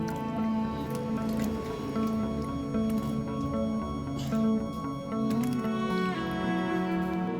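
Wet, freshly washed mangoes are lifted into a basket with soft squishing and dripping sounds, close and steady over a constant tonal background.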